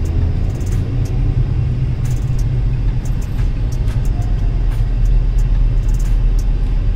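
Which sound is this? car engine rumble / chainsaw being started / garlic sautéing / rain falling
car engine rumble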